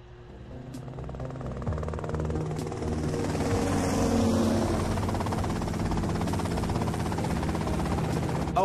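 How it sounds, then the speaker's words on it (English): A helicopter in the game GTA: Vice City, its rotor and engine drone building gradually and holding loud and steady throughout. "Okay, that's them and the chopper."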